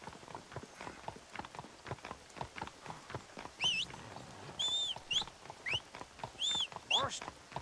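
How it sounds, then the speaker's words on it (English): Horse hooves in the Red Dead Redemption video game, a rhythmic clip-clop of footfalls under game sound, with high whistling tones breaking in partway through. "Is this dude on a horse?"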